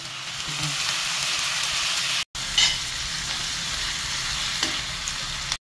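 Onion and garlic sizzle steadily in butter in a pan for tuna pasta, a loud continuous frying hiss with a brief cut partway through.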